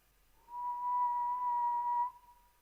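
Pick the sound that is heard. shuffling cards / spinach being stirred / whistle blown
whistle blown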